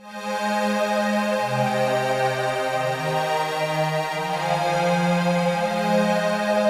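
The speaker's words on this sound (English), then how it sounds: "So we got the pads, which is a preset called Chill Universe" Sustained synthesizer pad chords, warm and smooth, shifting slowly between harmonies with no other sounds.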